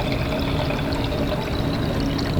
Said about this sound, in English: we take our beaker and we turn the dial, get 300 milliliters of the fix.